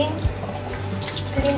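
Tap water runs steadily into a kitchen sink while a steamed-style fish head is rinsed clean, a continuous close splashing hiss with a couple of brief thumps from handling.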